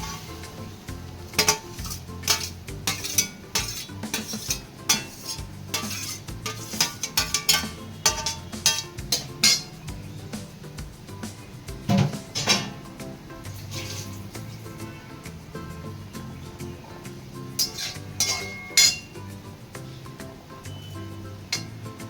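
Vegetables being sautéed for veg noodles, with a soft sizzle beneath irregular scraping and clinking of a utensil against the pan, close by, coming in bursts with quieter stretches between.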